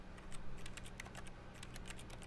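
Rapid keyboard typing in the video game The Stanley Parable, a fast irregular run of crisp key clicks repeating steadily over a low background hum, heard alone without talk.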